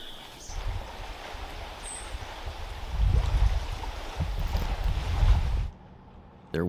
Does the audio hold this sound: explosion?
no